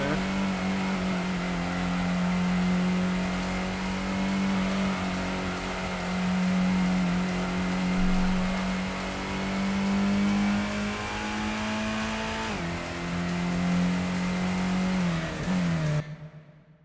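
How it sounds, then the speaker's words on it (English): A racing car engine drones at sustained high revs in an older racing game, a loud steady buzz that drops briefly at a shift, ending with a turbo blow-off hiss as the throttle lifts and the sound cuts out. "Like how it actually has turbo blow off and everything. You can actually hear it."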